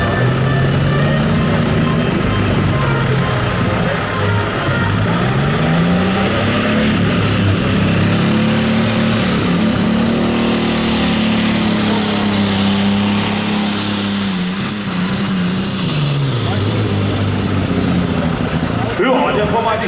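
A limited superstock tractor labours down the track at a tractor pulling event in Anholt, 2019, its heavy engine droning loud and rising and falling in pitch while an announcer talks over it.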